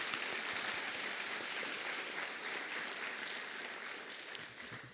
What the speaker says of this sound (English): give a round of applause, please, for all those faculty who have helped our students succeed